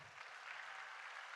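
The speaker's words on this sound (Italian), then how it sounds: "Questo applauso mi serve per uscire dall'imbarazzo." An audience claps at an outdoor live concert broadcast from Ollolai, a faint, distant, steady patter of applause lasting just over a second.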